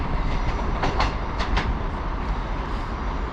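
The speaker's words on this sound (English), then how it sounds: "we've got another LNER coming through, and this one again will be Edinburgh bound" An LNER train passes through a station, a steady rumbling roll with a few sharp squeals and clicks from the wheels early on, fairly loud and continuous, with no voices.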